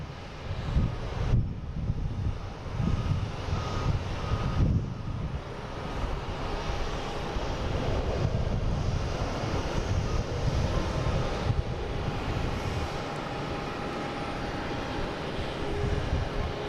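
A Southwest airliner arriving from Austin at Boston Logan sends a continuous jet roar across the airfield, a broad steady rumble with wind buffeting the microphone, sustained and fairly loud without pause.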